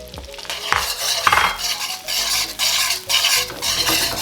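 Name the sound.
salted egg yolks and butter sizzling, stirred in a pan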